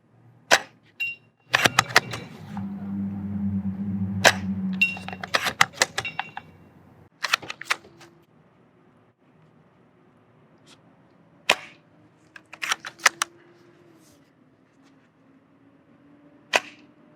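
Action Army T11 airsoft bolt-action sniper rifle being fired and cycled outdoors, giving sharp isolated snaps and clacks spread out over many seconds, separated by quiet gaps and a faint low hum.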